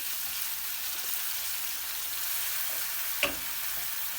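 A pan of dried peppers frying for a kuru biber kavurması gives off a steady, even sizzle. Near the end a drop of water hits the hot oil and makes one sharp, brief spike of crackle.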